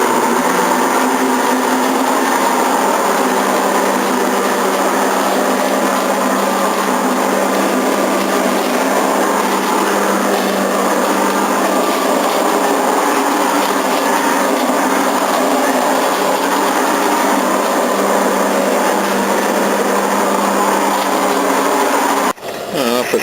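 Leaf blower vacuum sucking up leaves outdoors, a loud continuous motor roar and rushing air that runs steadily without break for over twenty seconds before cutting off abruptly at the end.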